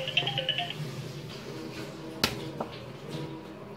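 A phone rings with a bright electronic tone at the start while fish is being filleted with a knife at a counter, followed by a sharp knock and quiet background noise.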